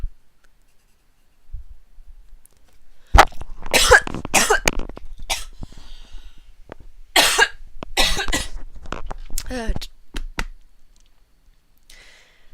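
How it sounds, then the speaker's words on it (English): A person coughs hard several times in a row, harsh close bursts with throat clearing, after a quiet start, then trailing off to silence. "Whenever I cough, I'm turning around in my chair completely."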